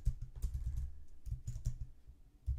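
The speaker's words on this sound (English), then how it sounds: "I'm typing this out for demonstration purposes" Keys clatter on a computer keyboard as Linux shell commands are typed, in quick irregular bursts with short pauses, close and fairly quiet.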